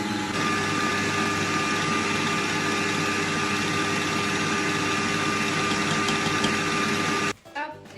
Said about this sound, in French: Je fouette donc au robot et j'ajoute mon sucre en poudre cette fois en 3 fois.